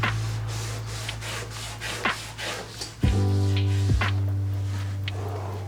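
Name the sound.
wiping surface with cloth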